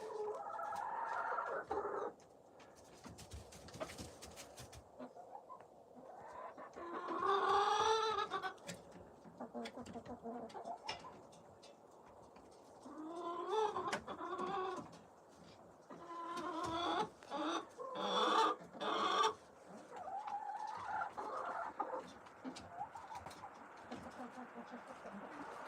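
Rhode Island Red hens clucking and calling in bursts, fairly close, with chattering phrases and short pauses between them.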